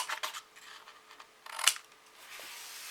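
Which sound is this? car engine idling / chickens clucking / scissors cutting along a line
scissors cutting along a line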